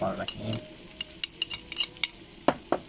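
Spices such as coriander powder, garam masala and fenugreek stirred into yogurt in a bowl, a few short scraping clinks of a spoon against the bowl after a brief muffled bump, quiet and close.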